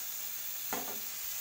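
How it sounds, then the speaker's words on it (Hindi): Boiled mushrooms being stirred in a hot pan, a short scraping swish over a steady sizzle, close and fairly quiet. "और इसमें ऐड करेंगे जो हमने ये मशरूम उबाली थी और इसको चलाते हुए"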